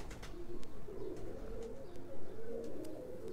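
Sialkoti pigeons cooing nearby, soft repeated throaty coos overlapping in a continuous murmur with a few light clicks.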